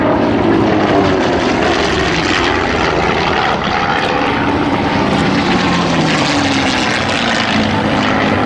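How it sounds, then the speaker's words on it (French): A Focke-Wulf Fw 190 A-8 propeller fighter plane drones steadily and loudly throughout at La Ferté-Alais, its engine roar dense and unbroken with a slight throbbing texture. "Et regardez son Focke-Wulf 190."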